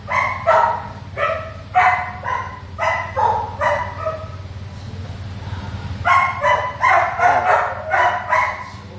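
A Samoyed puppy barking at a dog village in Yangpyeong, in repeated high yappy bursts, a run of quick barks, a short pause, then another flurry, close by over a low background hum.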